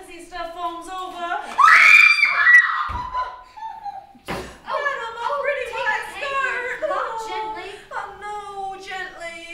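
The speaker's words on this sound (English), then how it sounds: "I don't know why I screamed." A woman screams loudly during a stage performance of A Streetcar Named Desire, a sharp rising shriek followed by strained, whimpering vocal sounds and nervous laughter-like noises.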